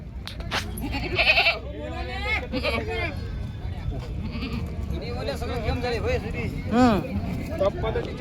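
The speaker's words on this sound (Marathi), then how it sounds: "शेतकऱ्या शेळ्या तुम्ही पाहू शकता एक नंबर शेळ्या आहेत" Goats bleating at a busy village livestock market, with repeated loud, wavering calls from several animals nearby under a constant hubbub of crowd chatter.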